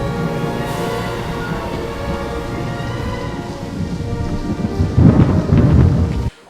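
Steady heavy rain on a planet with deep rolling thunder that swells loud near the end, then cuts off abruptly.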